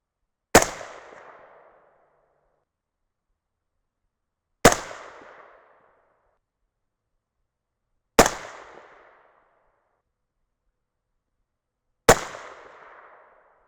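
Four single .223 Remington rifle shots fired at a range as a group, each a sharp loud crack with a short decaying echo, spaced about four seconds apart with silence between.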